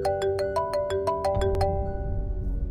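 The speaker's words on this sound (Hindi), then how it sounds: "अब ये फोन क्यों कर रहे हैं?" An electronic phone ringtone plays a quick repeating melody of bright beeps, close and clear, then cuts off into a low background rumble.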